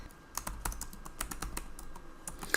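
Fingers type a description on a computer keyboard: quick, uneven runs of close, crisp key clicks with short pauses between bursts, and no voices.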